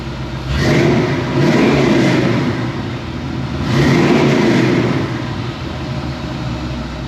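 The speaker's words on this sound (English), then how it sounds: "It revs like it should. It runs like it should." Truck engine revved twice in swelling rises, each climbing, holding and falling back toward a steady idle, loud and close.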